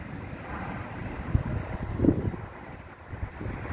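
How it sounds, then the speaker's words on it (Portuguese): Wind blows outdoors in fog in Vila Assunção, Santo André, São Paulo, buffeting the microphone with a soft, rumbling roar and a few stronger gusts, with no talking. "Reparando o vento."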